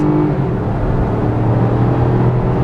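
A BMW 318i M Sport with a 1.5-litre engine accelerating hard in Sport Plus mode, heard from inside as a loud, steady low engine rumble and drone that fills the whole moment without any talking.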